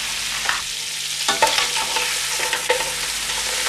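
Mussels sizzle steadily in a hot pan as they sauté for a moussels macaronade, with a few sharp clinks of a stirring utensil against the pan over the continuous frying hiss.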